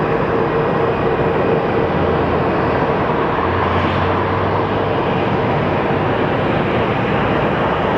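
An airplane's jet engines roar continuously during takeoff from runway 26 at Phoenix Sky Harbor airport, a broad steady rumble heard from a distance with no voices.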